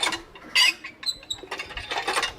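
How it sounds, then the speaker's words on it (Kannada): A hand pump creaks and clanks through a few irregular metallic strokes, with squeaky scraping bursts and rattles close by. "ಕೈ ಪಂಪ್ ಏನು ಇದ್ರಲ್ಲಿ ನೀರು ಬರುತ್ತಾ?"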